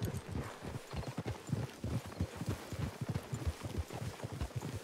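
Horses' hooves clip-clopping in Red Dead Redemption 2, a quick irregular patter of several horses walking on ground, fairly quiet and heard alone.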